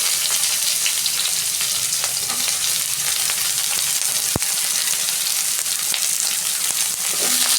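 Onion frying with cumin in oil in a kadai, a loud continuous sizzle and crackle close up with occasional stirring scrapes, no talking.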